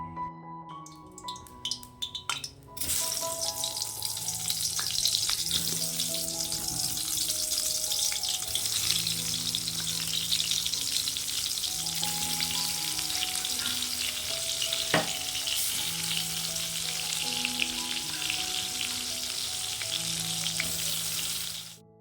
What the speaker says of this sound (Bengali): এই তো আজকে আবার ফাইনালি বেগুনটা ভেজে দেবো বলেই দিয়েছে।